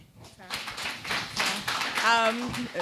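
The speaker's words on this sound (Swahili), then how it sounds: "Wapi makofi?" A burst of clapping from a youth camp panel discussion audience rises and fades, mixed with voices talking and calling out over it.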